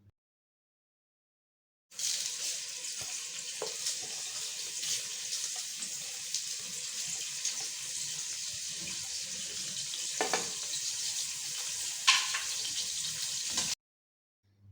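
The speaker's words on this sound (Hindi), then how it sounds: "4 टेबल स्पून ऑयल में प्याज और सारे गरम मसाले ऐड करके इन्हें अच्छे से फ्राई करना है।" Onions and whole garam masala spices frying in four tablespoons of oil for a masala pulao, a steady close hiss and sizzle with a few sharper pops, continuous for about twelve seconds, no talking.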